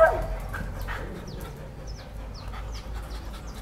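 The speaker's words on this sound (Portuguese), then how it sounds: "Então na rua tem uns cachorrinhos, sabe? Esses cachorrinhos fica latindo e atrapalha muito" Small dogs out in the street bark and yip in short, repeated bursts that sound somewhat distant and faint against low background noise.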